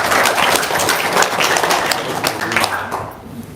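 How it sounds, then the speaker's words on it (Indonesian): An audience claps for Haji Marko at an indoor gathering, a dense burst of hand applause that holds steady and then thins out toward the end. "Tepuk tangan dulu dong untuk Haji Marko."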